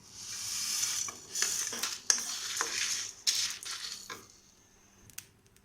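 Dry spices rattle and scrape in an empty pan as they're dry roasted and stirred, with irregular scratchy bursts and light metallic clinks, no talking.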